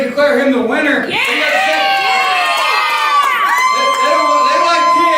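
A wrestling crowd at a live Mystery Match Madness season finale cheers and shouts loudly and continuously, with higher children's voices mixed into the roar and a few individual yells rising above it.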